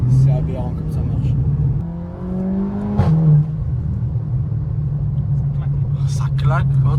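A Cupra Leon with a stage 1 tune drones loudly and steadily under acceleration, with a sharp crack from the exhaust partway through and engine rumble throughout.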